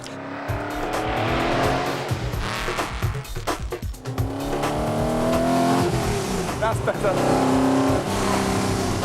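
A powerful car being driven hard on a motoring show, the engine revving up and down through the gears while tires squeal, loud and close throughout with a brief dip mid-way; someone speaks briefly over it.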